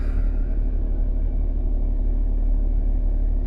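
A steady low rumble fills the cabin of a Toyota Prado 4x4 on the road, the engine and tyres droning evenly and closely with no voices present.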